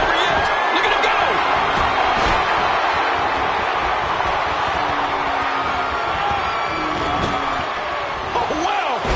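A dense, roaring video game crowd cheers in a steady wash of noise for the whole stretch, loud and unbroken, with small bumps of whoops and slams rising out of it.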